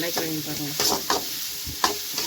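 Onions sautéing in a pan, a soft steady sizzle broken by a few scraping stirs of a utensil, close and alone without talk.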